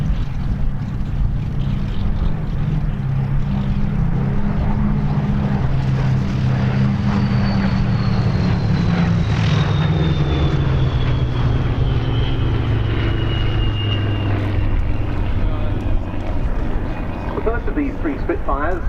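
Three Supermarine Spitfire fighters of the Battle of Britain era fly past at the Duxford airshow, their piston engines a loud, steady drone with rising and falling pitch as they pass, under a constant background of crowd and wind.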